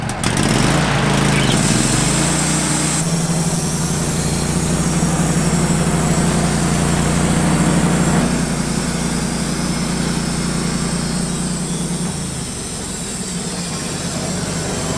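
A sawmill opens a small log into boards, a loud continuous engine drone with a heavy low rumble and a steady cutting whine that eases slightly partway through, with no voices.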